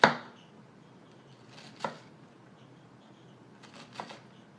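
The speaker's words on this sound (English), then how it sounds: "I turn it the other way and I start cutting this," Sharp kitchen knife chopping mushroom or carrot on a board, a few distinct cuts spaced apart: one sharp strike at the start, another near the middle, and a pair near the end, over quiet room tone.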